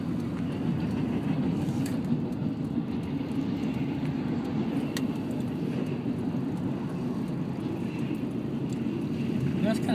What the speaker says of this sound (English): We had two red lights, and then the train comes.